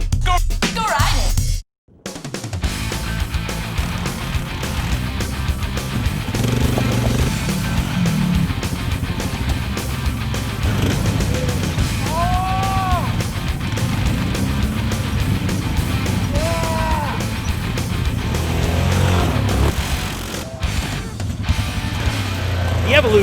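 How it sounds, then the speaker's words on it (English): A Yamaha Grizzly 700 ATV with power steering runs through the mountains, its engine droning steadily with gear shifts and speed changes. Voices are heard over the motor. "Our riders take the Grizzly 700 with EPS for a run in the mountains."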